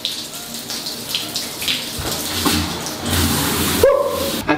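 A hotel bathroom shower starts running after its handle is pulled, bringing a steady close hiss of spraying water that builds and continues, with a brief squeak near the end.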